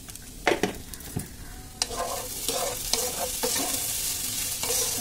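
A spatula stirs food in a sizzling frying pan just seasoned with ground black pepper and salt. Scrapes and clacks come at an uneven pace over a steady sizzle, close and clear, with no talk.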